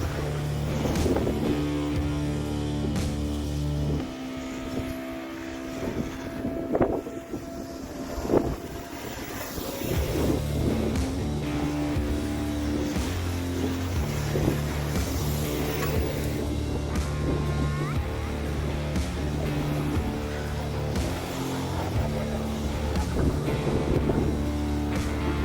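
A new car driving around on soft beach sand, engine droning and surging as it revs and labors, with heavy wind rumble across the microphone throughout.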